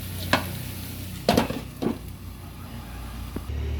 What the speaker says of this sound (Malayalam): ഉള്ളിയും മുരിങ്ങയ്ക്കയും ടൊമാറ്റോയും നന്നായിട്ട് വഴണ്ട് വന്നിട്ടുണ്ട്.